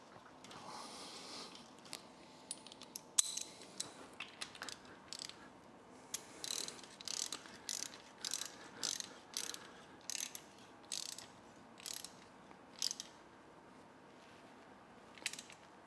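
Drain plug coated with pipe dope being threaded back into an Allis Chalmers C tractor, giving a steady series of close, quiet ratchet clicks in short regular bursts.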